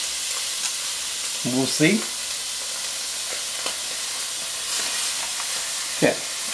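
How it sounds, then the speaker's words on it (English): Two pounds of hamburger meat sizzles and crackles steadily in a preheated skillet for chili, close and continuous, with brief scraping stirs and a short spoken remark over it. "toss it in my preheated skillet"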